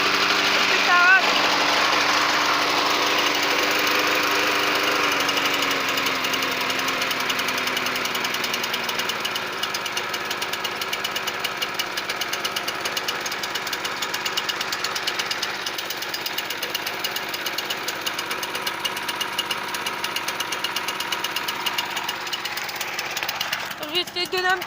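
A Notac lawn mower engine with a poor fuel supply runs continuously close by, a rapid rattling, knocking putter that holds fairly steady throughout, with someone talking briefly near the start.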